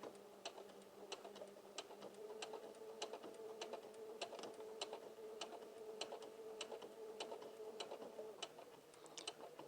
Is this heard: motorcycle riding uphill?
no